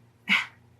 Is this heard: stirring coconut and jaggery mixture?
no